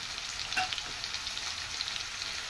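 Spices for mutton sambar sizzle and fry in hot oil on a high flame, a steady crackling hiss with a few brief stirring scrapes.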